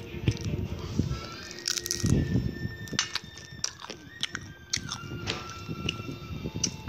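McDonald's fries eaten close to the mic, repeated crisp bites and wet chewing crunches in an irregular rhythm, with small mouth noises between.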